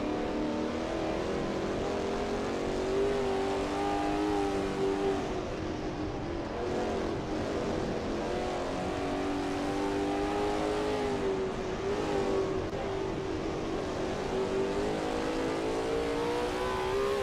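Race car engines, including a Lola T70 MkII Spyder, drone steadily around the Bathurst circuit in a racing game, a continuous loud whine with shifting pitch and no talk.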